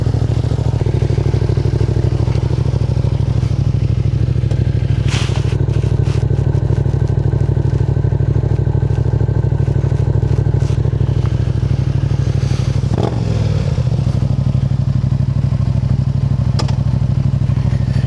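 A Yamaha MT-07 fitted with a Yoshimura R77 full exhaust drones loudly and steadily while riding, with brief clattering bumps and a short shift-like dip partway through, heard close from a rear-mounted mic.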